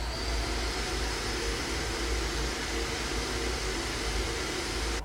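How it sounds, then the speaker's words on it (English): A vacuum cleaner runs in a home, giving a steady, loud and even whooshing drone that holds for the whole stretch with no pauses and no talk. "That was the vacuum."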